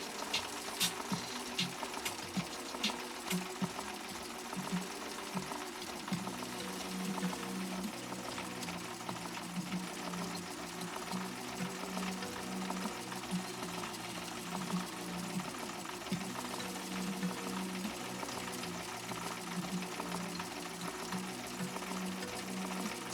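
A Viking 6010 sewing machine stitches steadily up close, a fast continuous mechanical whir and patter that runs on at an even pace.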